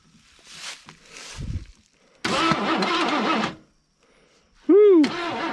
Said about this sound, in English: We're just going to see if the engine will turn over.